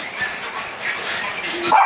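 A puppy at a house with a garden gives high, yappy barks and whines. Its voice is mixed with people talking close by.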